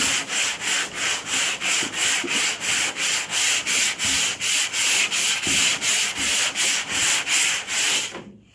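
A car body being block sanded by hand with 120 grit sandpaper, rendered as a steady run of about two strokes per second, each a loud rasping rub, continuing alone without talk until it stops near the end.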